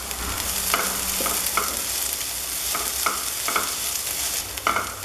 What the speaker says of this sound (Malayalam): ഇപ്പോൾ നമ്മൾ മഞ്ഞൾപ്പൊടിയും അതുപോലെ തന്നെ സവാളയും ഇഞ്ചിയും പച്ചമുളക് കറിവേപ്പില എല്ലാം തന്നെ നന്നായിട്ട് വഴന്ന് വന്നിട്ടുണ്ട്